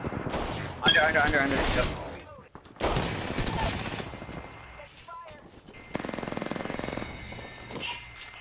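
Bursts of automatic gunfire in the shooter game Apex Legends, played on PS4 with an RE-45 pistol in use, coming in rapid clusters separated by pauses, with players talking briefly over the action.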